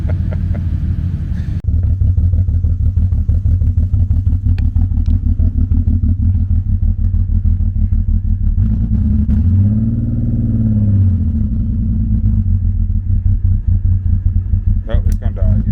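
Loud car engines, one a BMW E36 convertible, idle close by with a coarse, pulsing exhaust rumble, and one engine swells through a rev before settling back to idle.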